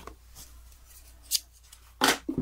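Scissors snip through packing tape on a figure box in a few quick, crisp cuts, close by and fairly loud, with quiet pauses between.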